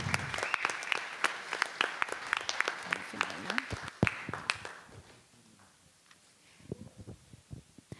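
Audience applause at a dance and politics event, scattered claps from a crowd swelling and then fading to quieter sparse clapping with faint voices underneath.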